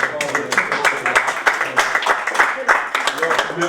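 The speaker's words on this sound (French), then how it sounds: "Je crois qu'on peut applaudir pour le poème." Council meeting audience applauding after a poem reading: a dense, steady patter of many hands clapping together, moderately loud and sustained throughout, with possible voices mixed in.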